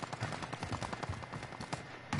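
Rapid Kilo 141 assault rifle fire in Call of Duty, a steady stream of quick close shots rattling for about two seconds, with a louder burst at the very end.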